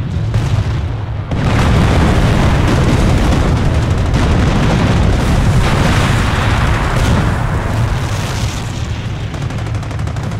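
Bunker battery artillery fires in the Company of Heroes video game, a heavy sustained barrage of booming blasts and rumbling explosions, loud and continuous after a short lull.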